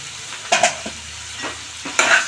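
Onion curry seasoned with salt and turmeric is stirred in a pan, giving a few distinct scraping strokes of a spoon over a soft sizzle, close and without speech.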